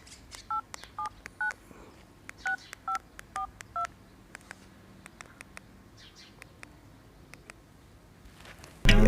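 A telephone keypad sends a quick series of touch-tone dialing beeps in short bursts and pauses, clear against a quiet background, ending in a sudden loud burst.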